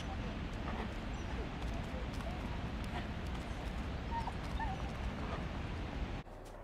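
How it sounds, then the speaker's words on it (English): A dog whimpers, yips and barks in the video game INSIDE over a dense, steady rumble of game ambience that cuts off abruptly near the end. "the dog saw me"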